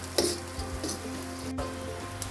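Keema koftas fry slowly in a pan over low heat, giving a steady soft sizzle with a few faint crackles and one brief sharp tap, close up and without speech.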